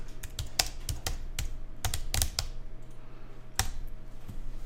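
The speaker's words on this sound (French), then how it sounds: "Et vous tapez un petit titre." Irregular bursts of clicky keystrokes on a computer keyboard as a short title is typed into a layout program, close and fairly clear over a faint room hum, with pauses between quick clusters of taps.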